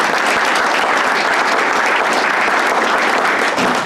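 Loud, dense audience applause at a senior center ribbon cutting, many hands clapping steadily and close throughout with no pause.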